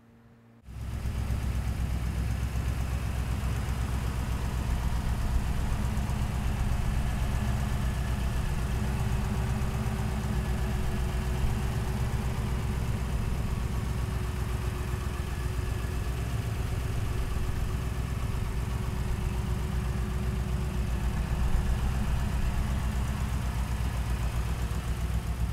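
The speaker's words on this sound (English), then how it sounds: "let's listen to this baby run." A 1955 Ford Fairlane Sunliner Convertible starts up and settles into a steady, even idle, its low rumbling engine running close and constant for over twenty seconds with no talk.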